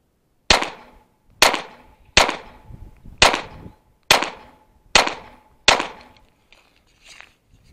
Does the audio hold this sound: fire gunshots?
yes